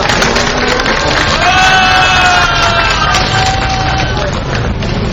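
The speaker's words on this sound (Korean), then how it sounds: "다시 한번 박수 부탁드립니다." Applause from an outdoor protest rally crowd as a guest is welcomed to the stage, loud continuous clapping mixed with cheering, crowd voices and a wavering tonal sound in the middle.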